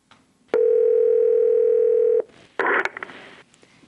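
A steady electronic telephone tone from an automated phone system holds loud and unbroken for well under two seconds, then cuts off into a short burst of clicking and rustling handset noise.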